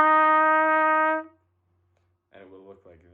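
A single sustained trumpet F, fingered with the first valve, rings steadily for just over a second and then stops cleanly. After a short silence a voice begins speaking.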